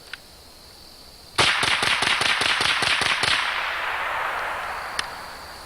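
A Ruger 10/22 rifle fires a rapid string of about nine or ten sharp, evenly spaced cracks. The burst is loud and close, and it trails off into a lingering echo, followed by one faint later click.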